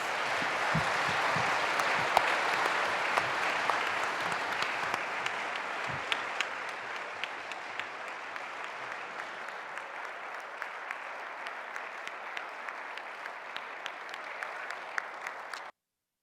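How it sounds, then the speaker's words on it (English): Audience applause at a panel event about the May 4 Visitors Center, steady dense clapping sustained for about fifteen seconds at even loudness before cutting off abruptly. "I want to give them a huge round of applause for their work"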